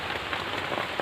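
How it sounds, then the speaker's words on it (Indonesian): Steady rain falls on a surface through a wet afternoon, a dense even patter with occasional heavier drops, continuous and fairly close with no voices. "sampai sore ini masih hujan teman-teman."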